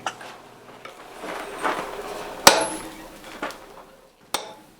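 Blacksmith hammering hot steel while forging a holdfast, a few sharp metallic strikes spread out irregularly among softer scraping and handling noises, moderately close.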